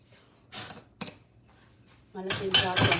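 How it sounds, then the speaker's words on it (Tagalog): Ceramic dishes and cutlery clinking close by as a large plate is lifted from among others, a few sharp clatters followed by a louder burst of rattling plates; faint voice murmurs underneath. "kuha tayo ng malaking plato"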